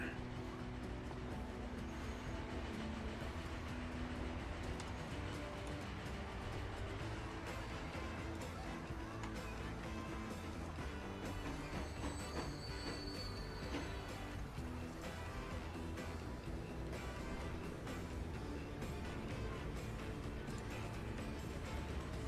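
Trains in the Transport Fever video game pull into a station, giving a faint, continuous rail rumble with wheel noise and occasional squeals, steady across the whole stretch.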